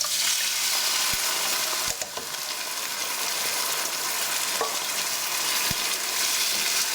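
Tomatoes tipped into a pan of onions and spices set off a steady, loud sizzle of frying for jeera potatoes, with a few sharp clicks and taps of a utensil against the pan.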